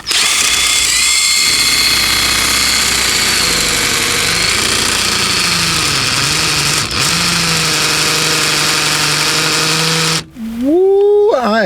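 A power drill bores out the ignition lock cylinder of a 1974 Ford Maverick, whining loud and continuous with pitch dipping as the bit bites, then stopping briefly before revving up again near the end.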